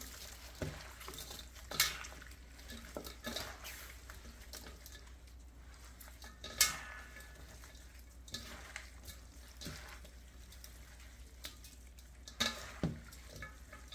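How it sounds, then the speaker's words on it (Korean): Kimchi made from butterbur leaves being tossed and mixed by hand with whole sesame seeds, giving soft wet squishing and rustling with a few sharper clicks, close up and fairly quiet, no talking. "이렇게 버무려 주시고 거기다 이제 다 버무려졌으면은 통깨를 좀 넣겠습니다"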